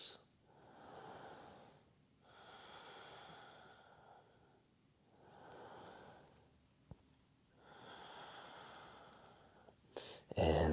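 Slow, deep breaths during a yoga flow, about four long airy inhale-exhale cycles in a quiet room, soft and close, with a brief sharp noise at the end.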